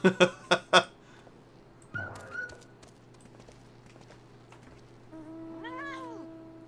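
A cat meows in the video game Final Fantasy XIV, a short rising call near the end, after a few sharp knocks at the start and a low steady game hum.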